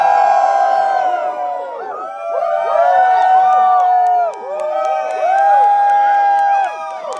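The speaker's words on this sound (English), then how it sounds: "everyone just cheer and pan it." A crowd at a comic con panel cheers and whoops loudly and close, overlapping shouts and high yells rising and falling in waves, with a few scattered claps.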